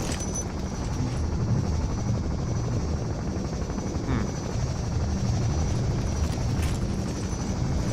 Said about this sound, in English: I guess follow the chopper.